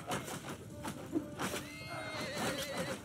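Within a Realm of Thrones battle, a horse neighs amid clashing, thudding game effects, a few whinnying bursts rising over the busy background at moderate volume.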